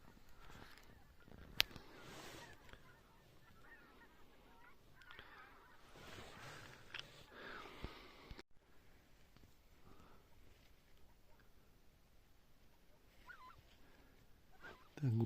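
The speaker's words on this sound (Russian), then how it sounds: "Так, гуси пошли на круг." Flock of geese honking as they circle on a May goose hunt, a steady stream of overlapping honks at moderate distance with a louder call near the start.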